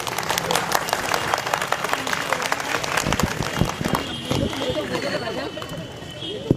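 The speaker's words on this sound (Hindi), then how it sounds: "सैफ पठान के लिए एक जोरदार तालियां।" An audience at a political gathering claps for a man, with a dense spatter of applause mixed with loud talking and crowd chatter.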